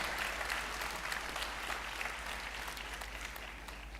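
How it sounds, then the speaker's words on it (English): Commencement audience at a college graduation ceremony applauding, a broad, even wash of many hands clapping from a large crowd, steady and moderately distant throughout. "That's a round of applause."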